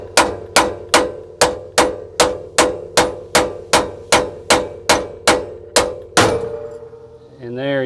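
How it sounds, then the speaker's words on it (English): A hammer taps steadily about fourteen times on a Workhorse P32 chassis, working loose a suspension ball joint with a tool wedged in to protect its boot; sharp metallic strikes ring at an even rhythm, close and loud, then stop. "I'm just tapping, not getting crazy with it."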